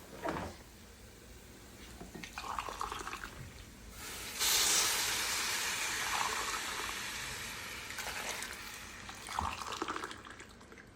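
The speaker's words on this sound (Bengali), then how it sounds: "এটা আমি হয়ে গেছে, এখন আমি পানি দিয়ে দেব।" Water poured into a pot of fried polao rice sets off a loud, steady hiss for several seconds, with quieter clatter of utensils before and after.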